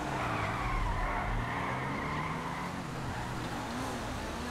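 Car tires skidding and squealing through a 360-degree spin in GTA 5, a loud, continuous screech over a low engine roar lasting several seconds, with no talk.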